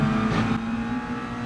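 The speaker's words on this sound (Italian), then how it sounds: "Ha fatto un rumore strano l'auto." A race car engine in Gran Turismo Sport on the Red Bull Ring drones steadily and loudly, with a brief shift in pitch partway through and no talking.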